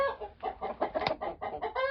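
A rooster newly introduced to a backyard flock clucks in a run of short, close, fairly loud bursts, with no voices over it.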